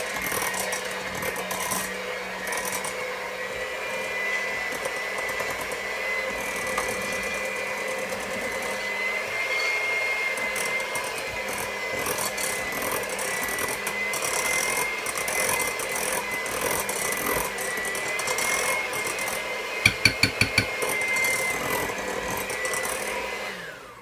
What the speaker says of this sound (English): And as I'm mixing, I'm going to take my mixer and I'm going to push down into